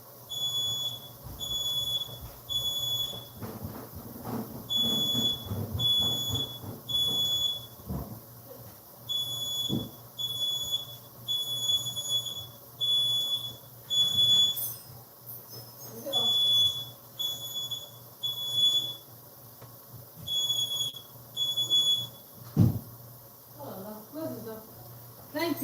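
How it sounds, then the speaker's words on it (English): Smoke alarm in a home kitchen beeping in a rapid repeating pattern throughout, with a person talking over it and cooking clatter around. "my alarm just came up. Let me off the alarm."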